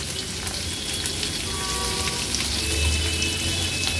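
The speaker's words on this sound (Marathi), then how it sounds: "1 हिरवी मिरची, लसणाच्या पाकळ्या 5 ते 6, थोडीशी परतून घ्यायची आहे" A green chili and five or six garlic cloves, with asafoetida, sauté in a hot pan, producing a continuous close crackling sizzle with no talking.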